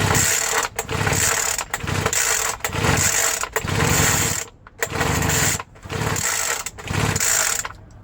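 Poulan Pro BVM200FE handheld gas leaf blower engine, after a full teardown and rebuild, roars up loud and close in repeated bursts of about a second each, cutting out briefly between runs, with no talking.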